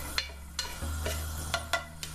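Whole spices popping in a hot pan for Punjabi curry, a few sharp scattered pops and crackles over a low steady hum of heat, close by with no talk.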